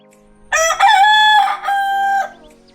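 A rooster crows loudly nearby, one long drawn-out call with a brief break midway, heard alone against a quiet background.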